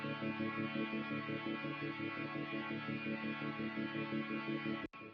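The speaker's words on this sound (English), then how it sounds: "adding like a freeze guitar that just kind of occupies space. It kind of works like a synth pad in a way" Electric guitar through a freeze effect, held as a steady sustained pad of layered tones with a slight shimmer, played alone and ending in an abrupt cut.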